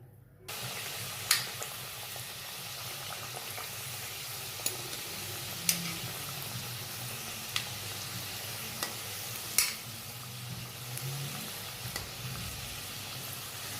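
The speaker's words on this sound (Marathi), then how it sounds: "आता त्याच प्रकारे आपण बाकीचेही समोसे तळून घेऊया" Pocket samosas deep-fry in hot oil, a steady broadband sizzle with scattered sharp pops and crackles running throughout, close and moderately loud with no talking.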